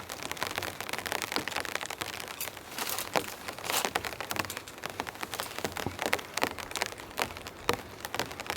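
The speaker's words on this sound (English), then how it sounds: "There are some cold raindrops." Cold rain patters on an air tent while car camping, heard up close as a dense, uneven crackle of drops striking the fabric, steady throughout with no voices.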